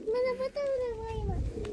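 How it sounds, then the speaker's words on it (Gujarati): Pigeons coo at a farm in a smooth, sliding tone that rises and falls, close and fairly loud, with some low background rumble and a break midway. "કબૂતરા હે"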